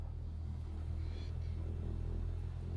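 Aircraft taxiing toward the runway in Microsoft Flight Simulator, with a steady low engine rumble holding throughout and no speech over it.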